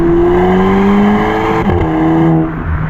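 A turbocharged Seat Ibiza with DSG gearbox and direct-injection engine revs loudly and steadily nearby, its tone climbing slightly before dropping away near the end, with no talking.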